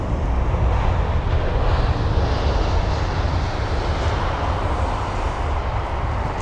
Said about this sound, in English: This is BA jet from 787 Dreamliner